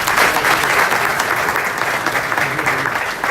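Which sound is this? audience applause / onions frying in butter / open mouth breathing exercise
audience applause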